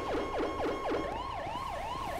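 Emergency siren wails nearby, first in rapid up-down yelps and then shifting to slower sweeping wails, loud and alone without talk.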